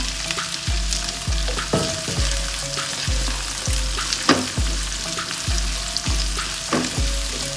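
Chopped onion and five green chillies sauté with garlic in a hot pan, giving a steady sizzle broken by regular, rhythmic scrapes and stirs of a spoon against the pan, close up and with no talking.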